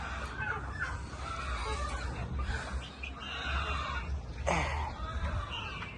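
Chickens at a poultry farm cluck and call over a dense, steady background of many birds, with one louder squawk near the end.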